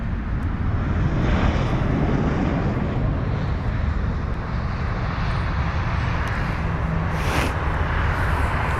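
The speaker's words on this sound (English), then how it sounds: "this here was the Aer Lingus A320 200 from Dublin" Aer Lingus Airbus A320-200 airliner arriving from Dublin at London Heathrow, a broad steady jet engine rumble with wind-like roar, moderately distant and continuous throughout.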